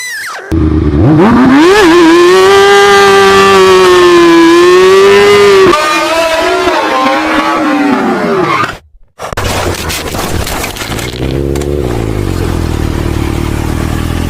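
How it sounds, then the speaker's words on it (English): A motorcycle attempting a rolling burnout roars loudly with a high, wailing engine note that rises and falls for about nine seconds, cuts out abruptly, then returns as a rougher, lower engine sound. "trying a rolling burnout. But it didn't quite go as planned"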